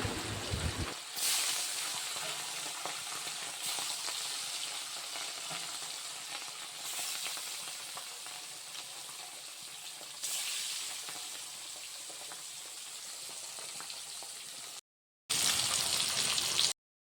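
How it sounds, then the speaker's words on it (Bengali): Fish pieces rubbed with salt sizzle in hot oil in a wok, a dense, steady crackling hiss close by with occasional louder bursts, then a brief pause before the frying resumes. "এখন মাছগুলি ভেজে নেব, তার জন্য কড়াইতে তেল দিয়ে দিলাম।"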